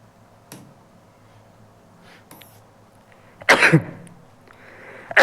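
A single short cough bursts out near the end, close and fairly loud, after faint ticks and quiet background.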